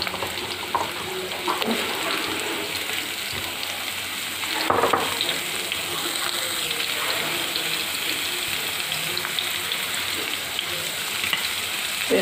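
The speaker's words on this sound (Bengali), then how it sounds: "পেঁয়াজ দিয়ে এখন এর মধ্যে আমি কেটে রাখা পেঁপেগুলো দিয়ে দিব।" Chopped papaya and onions sizzle and fry steadily in a hot pan for a Bengali chicken curry, a continuous close crackle with occasional stirring scrapes, no voices.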